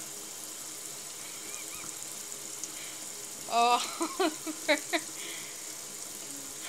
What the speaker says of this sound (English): Nothing like fresh water from the sink.